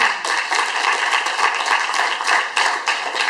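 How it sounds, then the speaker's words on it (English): Steady applause from a crowd, continuous clapping at a moderate distance, filling the whole stretch without pauses. "Let's give a round of applause"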